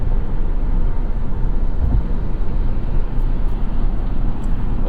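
Steady broadband road and wind roar fills the cabin of a 2025 Subaru Forester Hybrid sport model cruising at highway speed, a constant low rumble with no voices.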